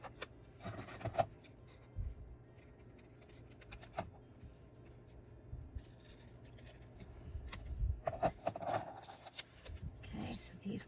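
Scissors cutting pieces of paper for craft embellishments, with soft, close snips and rustling scattered over about eleven seconds in a quiet room.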